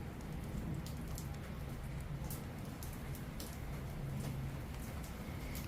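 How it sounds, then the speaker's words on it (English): Soft, steady rain falls outside an open garage, a faint continuous patter with scattered drip ticks and no talking. "I know you guys can hear the rain."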